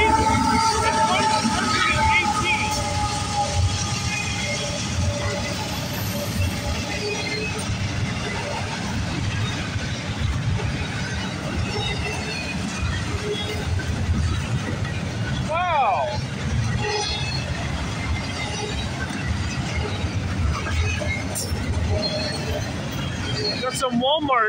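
CSX freight train I-117 with Walmart containers passing at Bayview Rd, a steady broad rumble and rattle of railcars rolling by close for the whole stretch, with occasional squeal and a voice speaking over it.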